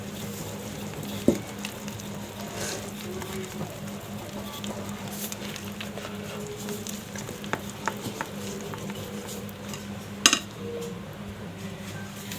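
Cake batter for a simple blender cake is stirred in a bowl. The scraping is soft and low-level, with occasional sharp clinks of the utensil against the bowl and no voices.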